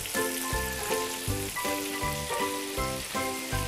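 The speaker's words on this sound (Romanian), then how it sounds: "Nu le prăjim prea mult, doar cât să capete o culoare aurie frumoasă" Close, constant sizzling of breaded mushrooms frying in hot oil, with rhythmic low thumps and tones repeating underneath, no voices.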